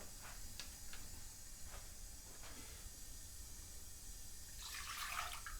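A kitchen tap runs water into a saucepan with a faint, steady hiss, then a brighter splashing gush rises briefly near the end; no one speaks.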